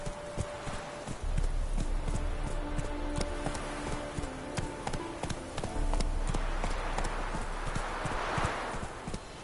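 Hooves of the horse Roach galloping in The Witcher 3, a steady rapid clip-clop of hoofbeats close up, with rumbling movement and ambient game sound underneath, no talk.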